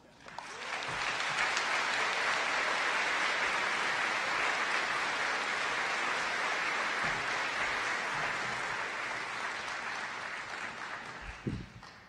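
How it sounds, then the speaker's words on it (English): A large crowd at the Glenelg Country School 2022 commencement ceremony bursts into sustained applause. The even, full clapping holds for about ten seconds before tapering off, with no talk over it. "Can we have another round of applause for both of them, please?"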